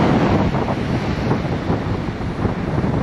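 Steady roar of ocean surf on a beach at Dawlish Warren, South Devon, mixed with gusting wind buffeting the microphone, loud and continuous throughout.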